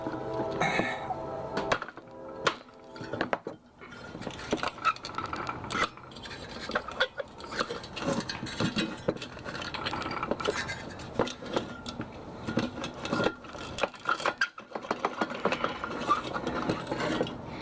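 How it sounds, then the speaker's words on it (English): A part is pried off the back of a microwave oven being stripped for its magnetron, producing irregular metallic scraping, ratcheting clicks and rubbing in uneven bursts close up, with no talk. "Now I'm prying this thing off the back of this jewel."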